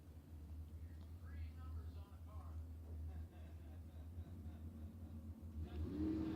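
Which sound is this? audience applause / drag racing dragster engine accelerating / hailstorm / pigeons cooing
drag racing dragster engine accelerating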